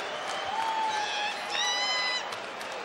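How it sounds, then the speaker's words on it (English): A crowd at a fight night event cheers and roars in a steady, loud wash of noise. Whistles and shouts ring out above it. "Huge reaction over here. You guys can hear the crowd."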